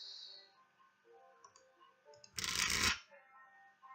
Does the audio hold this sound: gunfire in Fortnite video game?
no